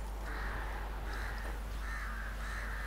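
Crows caw in The Witcher 3: Wild Hunt, four drawn-out harsh calls in a steady rhythm at moderate distance over a constant low ambient hum, with no talking.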